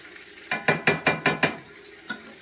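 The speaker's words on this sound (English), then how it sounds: "I need to stir it a little bit better now, Georgia." A utensil scrapes around a pot of home-cooked food in six quick, evenly spaced strokes, then a single stroke after a pause, close and clear with no talking.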